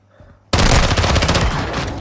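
Gunfire in Call of Duty Warzone erupts suddenly after a quiet moment, a loud, dense burst of rapid shots and explosions that carries on steadily close by.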